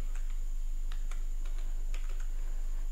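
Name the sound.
typing an OTP on a computer keyboard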